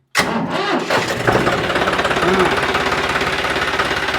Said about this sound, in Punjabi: ਇਹਨੂੰ ਸਟਾਰਟ ਕਰੀਓ ਟਰੈਕਟਰ ਨੂੰ